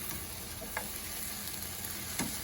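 Green beans sauté in a hot pan after a splash of Worcestershire sauce, a steady dense sizzle with occasional faint stirring scrapes, no voices.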